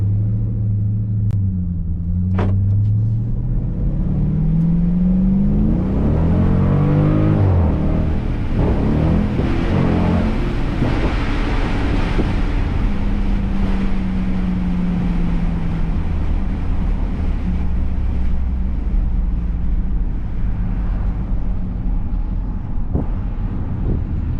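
A Dodge Durango 392 on the road, its engine a deep steady rumble that rises and falls in pitch as it accelerates and shifts, with heavy wind and cabin noise throughout and no talking.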